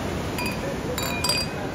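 Wine glasses clink in a toast at a seaside bar in the coastal town of Taghazout, Morocco, with a few short bright chimes over steady background noise and faint nearby chatter.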